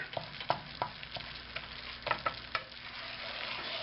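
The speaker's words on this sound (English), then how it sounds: "the main thing is to keep stirring" White country gravy being stirred in a pan, a spoon scraping and clicking in an irregular rhythm over a soft, steady simmer, close and fairly quiet with no talking.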